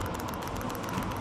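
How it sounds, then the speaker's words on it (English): The dosing fuel pump of an Eberspacher Airtronic D4R heater ticking in a fast, steady pulse, several clicks per second, over a constant noisy mechanical hum. "close to the mic so you can hear the fuel pump."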